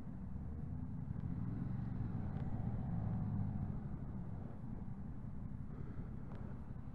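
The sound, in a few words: Yamaha Tracer 7 motorcycle riding through town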